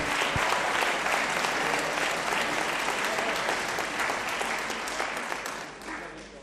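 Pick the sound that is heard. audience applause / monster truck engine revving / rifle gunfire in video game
audience applause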